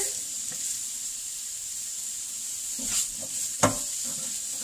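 Food sizzles softly in a pan with a steady hiss throughout, while two or three brief, sharper scrapes and clinks mark a stir partway through. No one speaks.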